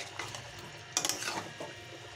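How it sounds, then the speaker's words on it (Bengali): Marinated chicken being stirred into a pan of spices for palak chicken, with a faint wet scraping and a few soft clinks of a utensil near the middle, over a quiet background. "আমি মেখে রাখা চিকেনটা দিয়ে দিচ্ছি, দিয়ে ভালো করে মিশিয়ে নেব আমি"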